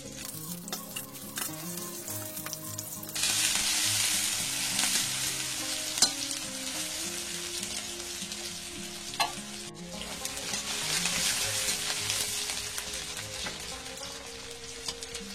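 An onion fries in plenty of oil for a dry fish curry, giving a steady close sizzle that swells louder partway through, with occasional stirring clinks and no voices.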